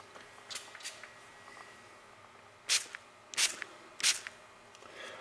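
Three short bursts of Froglube lubricant sprayed from a can onto metal, each a crisp hiss lasting about half a second, with quieter handling rustles before them.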